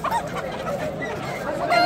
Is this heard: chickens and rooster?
yes